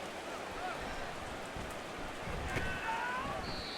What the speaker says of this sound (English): The rain set to continue as we are underway in the second half.